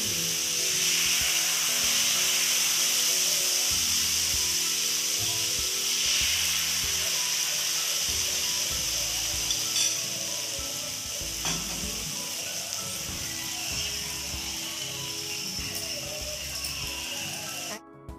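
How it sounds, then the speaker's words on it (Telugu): Dosa made from pearl millet flour and tomatoes frying on a hot oiled pan: a steady, close, continuous sizzle that holds for the whole stretch, with faint clinks of a utensil and no talk. "ఈ దోస వేగడానికి 2 మినిట్స్ టైం పడుతుందండి"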